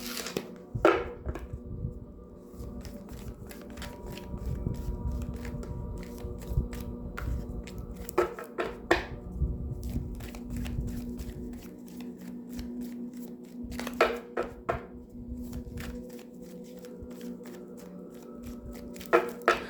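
Tarot cards riffle and shuffle repeatedly up close, with bursts of crisp flapping and softer sliding between them, no talking.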